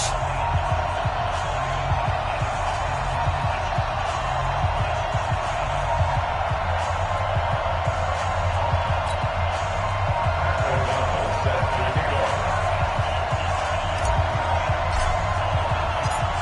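A stadium crowd in an EA Sports NFL video game, Redskins versus Chicago Bears, roars in a steady, dense wash of cheering that runs on without a break while a commentator talks over it.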